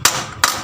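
An old steering bearing race is hammered onto a Honda Supra motorcycle. Two loud, sharp metallic blows land a fraction of a second apart, each with a brief ringing decay, close up.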